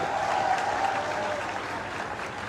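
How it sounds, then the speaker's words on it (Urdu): Hall audience at a formal signing ceremony breaks into loud, sustained applause, many hands clapping in a dense wash that eases slightly toward the end. "بشیر فاروقی صاحب کے لیے بھی زوردار تالیاں"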